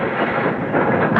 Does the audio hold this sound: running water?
no